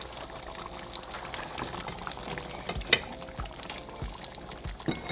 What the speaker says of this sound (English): So at this point, we're going to add our potatoes.